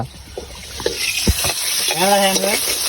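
Egg and chicken stir-frying in a pan, a steady sizzle with scraping stirs, while a person speaks briefly over the cooking.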